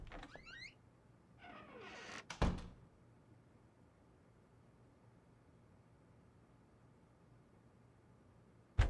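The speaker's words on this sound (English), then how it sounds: "And close the door." Door closing in the video game Unheard, with a sharp thunk after some faint creaking and shuffling, then quiet room tone and another brief thump at the end.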